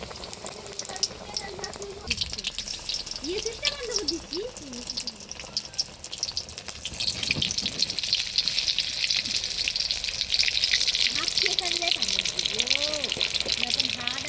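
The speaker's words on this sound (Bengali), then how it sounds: "এবারে গরম তেলের মধ্যে বেগুন সুন্দরীটা ভেজে এটা চপ বানাবো" Eggplant slices fry in hot oil with a steady bubbling sizzle that grows louder and denser toward the end, while voices murmur faintly in the background.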